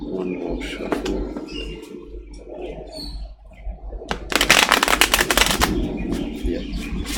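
Tarot cards being shuffled by hand for a reading, a dense papery riffle of rapid flutters building in the second half, close and fairly loud over a low steady hum, with a brief faint voice earlier.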